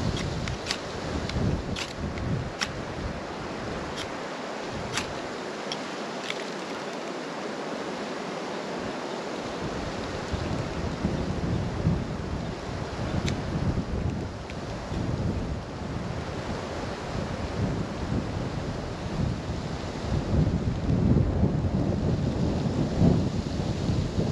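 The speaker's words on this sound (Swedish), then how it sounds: "Har med några vindpustar, här, jag bara väntar ut dem lite." Gusts of wind roar across an outdoor lakeside at Skärsjön, a continuous rushing buffet on the microphone that rises and falls in strength and swells louder toward the end, with no talking.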